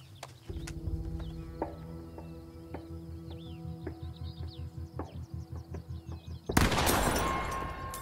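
Rapid gunfire in the video game The Quarry, a quick rattling burst of shots that repeats at an even rhythm, then ends in a loud, harsh blast.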